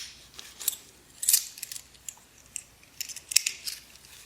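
Small metal Dutch guilder coins, the bigger ones, clink and rattle in brief bright bursts, handled close by with quiet pauses between the taps.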